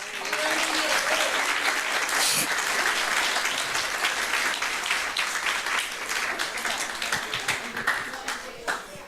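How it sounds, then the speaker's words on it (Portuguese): Loud applause from a large church congregation, dense clapping that holds steady for several seconds before gradually thinning out. "Você pode aplaudir o Senhor por isso?"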